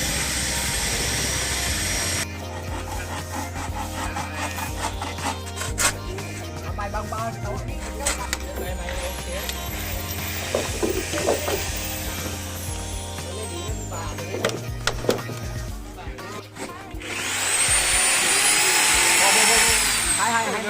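A power drill bores large holes in bamboo for threading rope for a fish-attracting reef float, a loud steady whine running throughout with pitch shifts as it bites and rising in a heavier burst near the end.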